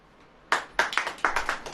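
A few people in a congregation at a Hindi-language church sermon clap their hands, a short burst of five or six sharp, irregular claps starting after a quiet moment, close and fairly loud.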